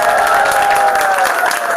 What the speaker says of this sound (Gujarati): એકવાર જોરદાર તાળીઓથી સ્વાગત કર્યું છે.